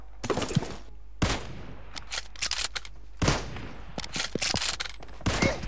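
Loud, close gunfire in the mobile shooter PUBG Mobile comes in several sharp bursts of rapid shots separated by short pauses, with a faint echoing tail after each volley.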